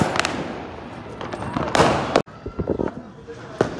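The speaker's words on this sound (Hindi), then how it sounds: "पटाखे चल रहे हैं" Diwali firecrackers pop and crackle nearby in irregular bursts, with one loud blast around the middle, while people talk over the noise.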